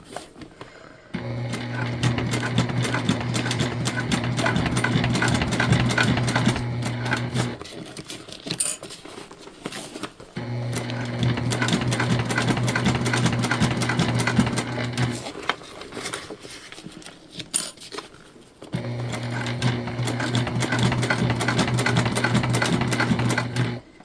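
A sewing machine topstitches a shoulder bag in three long steady runs of rapid, even stitching, close and loud, separated by short pauses.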